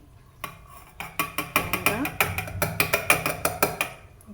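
Rapid, steady pounding of masala ingredients in a mortar for a moringa drumstick stir-fry, with about a dozen sharp, close knocks at an even rhythm and no talk.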